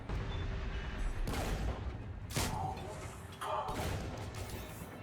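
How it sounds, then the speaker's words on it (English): Grenade blasts in Mass Effect 3 on Insanity difficulty: three sharp, loud bursts roughly a second apart, each fading into a rumbling tail, over constant gunfire and battle noise. "Another grenade."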